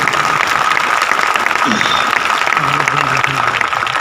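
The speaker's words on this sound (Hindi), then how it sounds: "एक बार उनके लिए जोरदार ताली होनी चाहिए।" A large audience at a motivational speech meeting breaks into loud, sustained applause that fills the hall steadily throughout, with a voice faintly audible beneath it.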